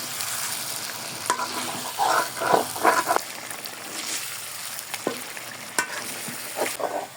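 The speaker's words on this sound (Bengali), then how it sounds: "কড়াইতে রান্না করতেছি, নিচে লেগে যাচ্ছে, ঘন ঘন নাড়াতে হচ্ছে" Chicken korma sizzles in a kadai as a spatula scrapes and stirs it, producing clustered scraping strokes and occasional sharp taps over a soft, steady frying hiss.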